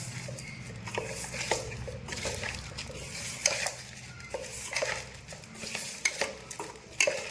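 A spoon mixes salt and fried onions into mutton biryani masala in a pot, with uneven scraping strokes and metallic clinks over a soft background sizzle.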